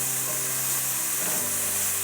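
Swiss chard stems and garlic sizzle steadily in a hot pan, a close, even frying hiss with no talking.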